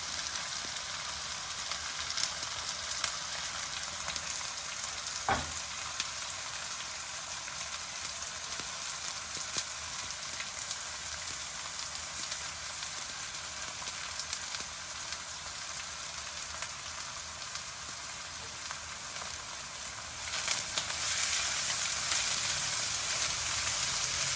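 Green chillies and onions fry in hot oil in a pan for Telugu egg pulusu, giving a steady, dense sizzle that holds even throughout, with one sharp tap midway and a slight swell in loudness near the end.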